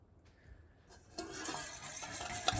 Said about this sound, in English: You really need to whisk this? No. It's mostly soy sauce and avocado oil.